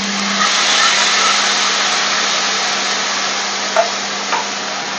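Sea bass pieces stir-frying with a little water in a hot pan, a steady loud broadband sizzle and hiss that fills the whole stretch, with a couple of faint knocks near the end.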